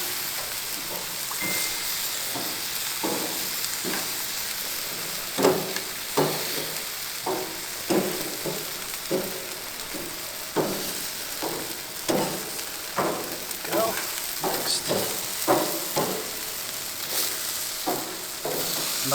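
Chicken wing flats sizzle on a BBQ grill: a steady soft frying hiss punctuated by repeated crisp taps and scrapes as the pieces are moved, fairly quiet and close, with no speech.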